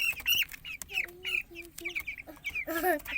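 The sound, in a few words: pet chicken clucking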